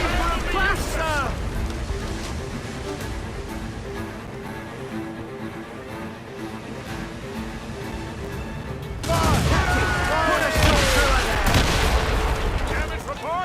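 Naval cannon volleys in Assassin's Creed Rogue during a ship battle, repeated booming shots over water with a sharp surge of heavier fire near the end, loud and close, while crew voices shout throughout.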